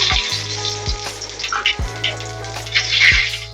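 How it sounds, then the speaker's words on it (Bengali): Dry red chilli, cinnamon and cumin hit hot oil with a loud, continuous crackling sizzle and spitting bursts, heard up close with a low steady hum beneath and no voices. "তেলটা আমার গরম হয়ে গেছে এবার আমি দিয়ে দিলাম শুকনো লঙ্কা দিয়ে দিলাম দারচিনি দিয়ে দিলাম জিরে ফোড়ন"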